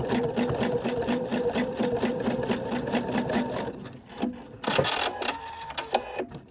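A sewing machine runs steadily, stitching straight across and tacking a sunglass holder strap, a close rhythmic mechanical whir that stops near the end, followed by a few short handling clatters.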